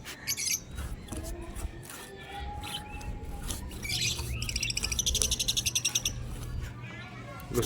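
Caged pet birds chirp nearby during house roof painting: bright, rapid chirps and calls, loudest in a fast repeated run near the end, over a low background hum.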